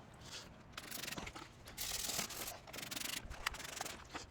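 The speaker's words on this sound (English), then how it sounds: "I'm just gonna go through one more time and do a quick rinse and scrub" Close rinsing and scrubbing on a car's rocker panel, uneven brushy rubbing strokes and splashy bursts coming in irregular waves, quiet and with no talking.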